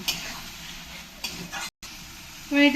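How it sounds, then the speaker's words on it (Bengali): Chopped coriander leaves being stirred into a fish curry with potatoes and spices in a pan, a soft steady scraping and sizzling close by, with a brief gap and a sharper clink near the end. "এর মধ্যে একটু ধনের পাতা কুচিয়ে রেখেছিলাম দিয়ে দেবো দিয়ে ভালো করে দু এক মিনিট কষিয়ে নেব"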